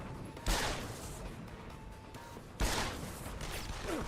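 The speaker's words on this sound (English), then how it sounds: "I don't think I can shoot through that window, but they can." Two sharp gunshots from enemies firing through a window in Deus Ex: Human Revolution, each a loud crack with a crashing tail, separated by a couple of seconds of quiet ambience.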